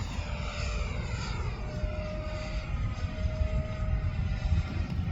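An E-flite F-16 80mm electric ducted-fan RC jet, fitted with a heavy 7000 battery, flies at full throttle with a steady, loud whine and a sustained rushing roar that swells slightly as it passes.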